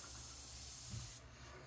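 An old, cheap airbrush sprays paint in a steady close hiss that cuts off abruptly, leaving faint room noise.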